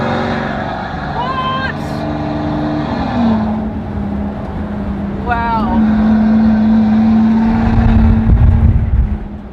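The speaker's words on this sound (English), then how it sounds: "A one-off car in the world down a private airport strip." A one-off Maybach Exelero supercar roars past on a private airport strip with a rising engine note and a steady high whine, growing louder toward the end; a person briefly exclaims over it.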